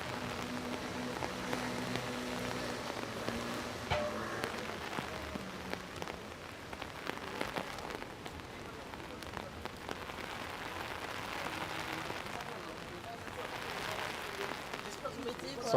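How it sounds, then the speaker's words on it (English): Steady rain falls on Paris streets in the evening, a continuous even patter and hiss of drops on pavement throughout, with no voices. "Ooh, it is raining."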